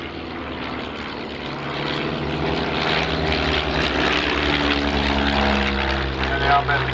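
A propeller plane drones overhead during the 2007 Shuttleworth evening air display, its engine tone steady and fairly loud, with faint crowd noise or talk beneath it.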